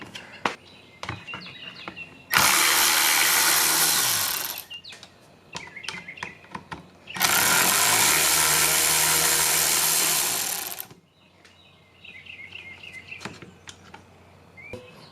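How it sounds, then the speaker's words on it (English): T10 Torx screws being backed out of a car side mirror housing with a power driver, two long loud whirring bursts separated by quieter ticks and clicks, with faint chirps in the background. "The next thing we're going to do is remove both T10 Torx."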